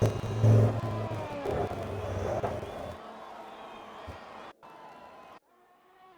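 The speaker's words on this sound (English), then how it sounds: "In the background, sound like a really loud car." In a racing video game, a loud old-fashioned car engine roars and revs under crowd noise before the sound drops away and cuts into quieter tones.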